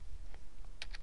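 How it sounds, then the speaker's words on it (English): Quick bursts of typing on a computer keyboard while entering dates and numbers into a spreadsheet, a handful of close, crisp key clicks in an uneven rhythm. "I'm going to come down here and type"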